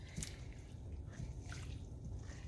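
Hot water is poured over rice to soak it before cooking jollof rice, giving a steady, close liquid trickle and splash that runs without a break for the whole stretch.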